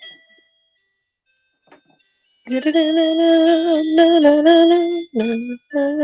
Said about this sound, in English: We just have like a little music break every time because we have the Christmas clock.